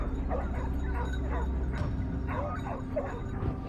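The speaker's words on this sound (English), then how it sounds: "Within minutes, a ferocious chorus of barks erupted, pulling every eye to the sound." Hunting hounds bark and yip in a chaotic pack amid a busy outdoor hunt, repeated overlapping barks with a whimpering edge over a constant low rumble of background noise.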